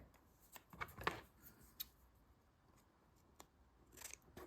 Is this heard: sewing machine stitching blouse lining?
no